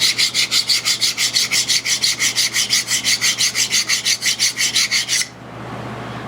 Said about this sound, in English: I'm going to run a stone over everything.